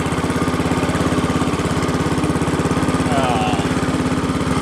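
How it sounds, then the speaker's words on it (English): Massey Ferguson 10 garden tractor engine running steadily close by, a loud, even small-engine putter with a fast regular beat throughout. "Nice little tractor."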